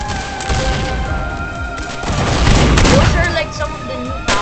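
Video game explosions and gunfire keep up a loud, dense clatter of booms and crashes, swelling midway, with a person talking over the din.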